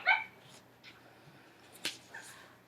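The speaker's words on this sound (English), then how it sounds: "She's barking at everything." A small house dog barks and yips indoors in a few short, fairly faint bursts spread across a quiet room.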